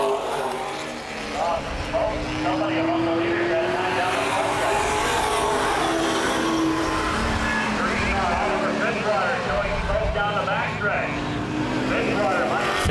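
Late model race cars roaring around the Baer Field Speedway oval during a feature race, a steady loud drone of engines that rises and falls as cars pass, with an announcer talking over it throughout.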